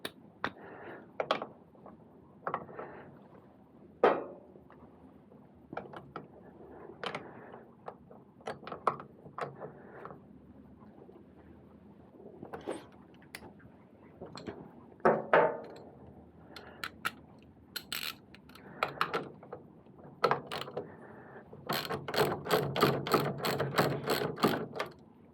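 Bolts being loosened and removed from the brake caliper of a KTM Duke motorcycle, heard as scattered close metallic clicks, taps and tool knocks, ending in a quick run of rapid ratcheting clicks.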